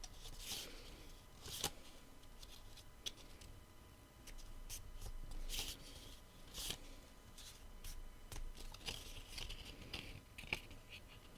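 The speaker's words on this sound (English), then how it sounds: "So just folding each one along the score line." Card stock is folded along score lines in a quiet series of soft creases and light taps, with steady low background noise between them.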